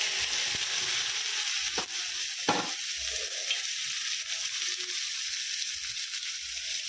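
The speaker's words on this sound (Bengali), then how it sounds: "5 ফোড়ন শুকনো লঙ্কা দিয়ে পেঁয়াজগুলো এবার চট করে দিয়ে দেবো।" Onions frying in oil with panch phoron and dried red chilies: a steady, bright, hissing sizzle fills the whole stretch, with a couple of faint scrapes and clicks from stirring, close and without voices.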